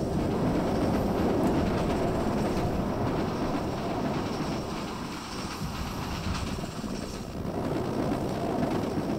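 A continuous rumbling roar of a train rolling past in a video game, steady and fairly loud, with faint rattling and no voices.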